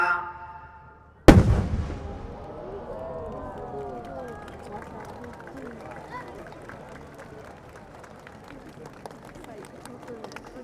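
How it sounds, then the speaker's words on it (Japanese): A single loud firework bang at the Makomanai fireworks festival in Japan bursts out of quiet, then crackling and fizzing trails off into a long, distant rumble with scattered pops. "レクチャー花火をお届けいたしました"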